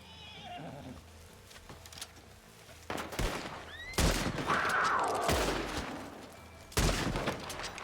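Gunshots ring out in a Red Dead game, a few sharp, separate cracks spaced a second or two apart, mixed with a horse's whinny and hoof sounds amid outdoor ambience.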